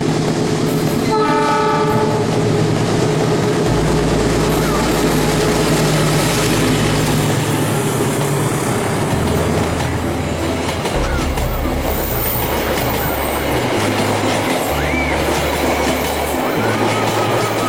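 An Indonesian train rolls past with repeated blasts of its horn, heavy rumbling wheels and clattering wagons filling the scene, loud and close throughout.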